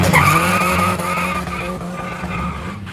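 A Fiat Punto 1.9 JTD and a VW Golf 1.9 TDI, both front-wheel-drive turbodiesels, launch in a quarter-mile drag race with loud tire squeal and engine roar, close and strong, easing slightly after the first second.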